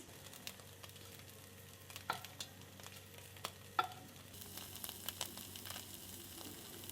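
Fermented dried fish roasts in a pan over a low flame, giving a faint, steady sizzle broken by occasional small pops and scrapes, quiet and close with no voices.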